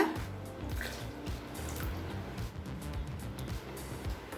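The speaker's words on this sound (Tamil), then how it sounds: "இப்போ அடுத்து 2 கப் பால் சேர்த்துக்கலாம்." Milk is poured into a pot of javvarisi (sago) payasam with a soft, steady liquid splashing and trickling, low and close, with no speech.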